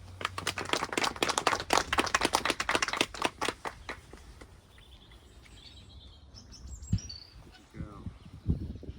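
A small crowd claps for a dog in a burst of quick, uneven applause lasting a few seconds, then it fades into quieter room noise with a voice speaking near the end.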